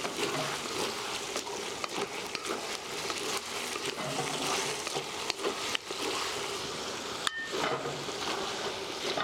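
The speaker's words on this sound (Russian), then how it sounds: "Перемешиваем." Vegetable stew frying in a pot gives off a soft, constant sizzle, with occasional scrapes and knocks from stirring and a sharp clink of the pot near the end.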